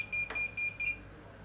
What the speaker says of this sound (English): the sound beeper starts beeping because we're close to the zero angle